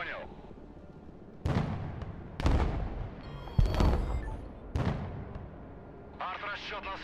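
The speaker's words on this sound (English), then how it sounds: "Actual artillery piece out here." Artillery fire in the modern warfare game Broken Arrow, several heavy booming shots spaced a second or so apart, loud and close, with radio-style voices talking between and over the blasts.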